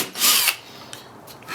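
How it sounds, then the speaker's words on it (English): A short burst of a hand drill biting into wood, loud and close, lasting about a third of a second, followed by faint handling noises. "I'm just going to demonstrate with a hand drill."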